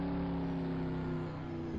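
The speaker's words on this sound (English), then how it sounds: "Obviously we still got a nice big thumping American V8" Ford Mustang race car in Assetto Corsa, its V8 holding a loud, steady, thumping drone with strong low harmonics and no pauses.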